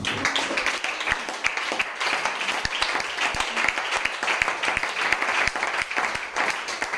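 A church congregation applauding to acclaim Jesus during a worship service, dense sustained clapping from many hands at fairly close range, loud and continuous without pause.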